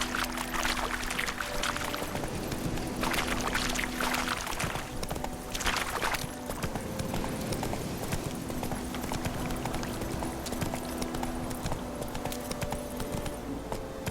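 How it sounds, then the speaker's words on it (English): Horse hooves in The Witcher 3 video game, a steady clip-clop of trotting over a continuous wash of flowing water and ambient game sound, with no talk. "Whoa there, Roach"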